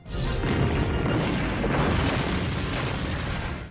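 An anime rocket launcher explosion makes a dense, sustained roar of blast noise that fills the whole clip at constant loudness.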